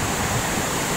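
A river flows near a bridge in the Narkanda hills, a dense, steady rushing wash of water filling the whole moment with no voices.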